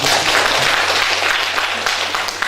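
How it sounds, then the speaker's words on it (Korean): Loud, dense applause fills a poetry recitation award ceremony hall, an unbroken crowd of clapping hands close by and sustained throughout. "이럴 때 박수 한번 치는 것도 좋고"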